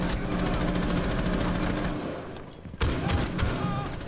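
Rapid automatic gunfire in a shooter video game rattles steadily at close range, then breaks off, and a few sharp separate shots follow.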